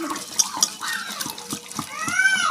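Metal utensil scrapes and clinks against a pan while cooked spinach greens are mashed, with wet squelching and sporadic sharp taps, fairly faint, and a voice speaking softly at times.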